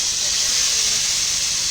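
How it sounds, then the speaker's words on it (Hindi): Hot oil sizzles in a loud, steady hiss as a tempering is added to kadhi pakora, continuous and close, with no other sounds standing out. "हम अपना तड़का डालेंगे"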